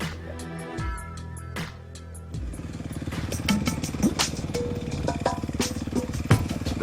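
A dirt bike engine climbs a hill in second gear: a brief idle, then the motor pulls hard with a strong, steady throb and rattling clatter, close and loud, growing rougher as it works up the slope.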